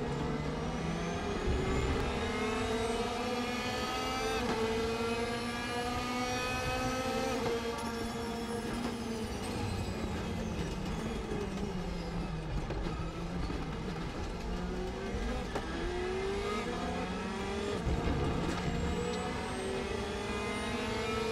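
A Mercedes DTM race car from the 2016 season roars continuously through a short two-lap race in Assetto Corsa, its engine note rising and falling through gear changes, loud and steady throughout with no talking.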